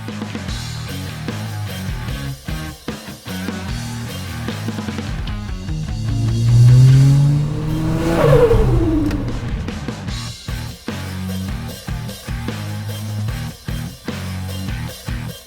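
A loud Ford Territory AWD engine with a Barra swap running hard on a dynamometer, its pitch climbing in a long rev and then dropping back to a steady, throbbing drone.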